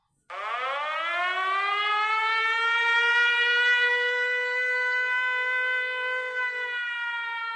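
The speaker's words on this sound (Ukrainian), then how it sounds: "Увага! Повітряна тривога. Пройдіть найближче укриття." A civil-defense air raid siren rises and then holds a steady, loud wailing tone for over seven seconds with no talk over it, sounding during a wartime air alert in Ukraine.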